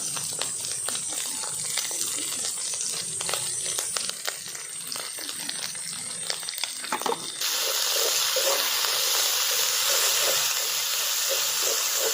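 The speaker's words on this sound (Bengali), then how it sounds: "সর্ষে বাটাটা দিয়ে আরও একটু সময় কষিয়ে নেব।" Mustard paste and masala sauté in oil for a Bengali prawn malai curry, a soft, continuous hiss that turns brighter and steadier partway through, with faint scattered crackles.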